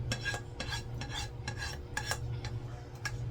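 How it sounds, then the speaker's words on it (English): A utensil scrapes tomato sauce off a pan in a home kitchen, giving a rhythmic series of close, rasping strokes over a steady low hum, with no talking. "I need to scrape all this sauce off of here."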